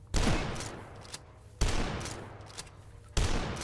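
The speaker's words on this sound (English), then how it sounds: "this guy takes 3 shots with his weapon" Three loud gunshot blasts from an enemy's weapon in the first-person shooter game Dusk, evenly spaced about a second and a half apart, each a sharp crack followed by a rumbling decay.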